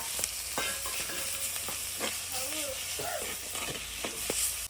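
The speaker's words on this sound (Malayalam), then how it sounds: "ഇനിയിപ്പോ ഈ മുളകൊന്നങ്ങോട്ട് വാടി വന്നു കഴിയുമ്പോ ഉള്ളി അങ്ങ് തട്ടി കൊടുക്കുക." Shallots and chillies sizzle in hot oil in a pan, a steady frying hiss with repeated scraping stir strokes from a spatula, close and fairly loud, with no talking.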